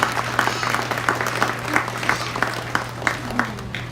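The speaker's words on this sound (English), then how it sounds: "Let's give one more big round of applause" Applause from a crowd at a youth hog show, a steady wash of clapping with a constant low electrical hum underneath, moderately loud and sustained throughout.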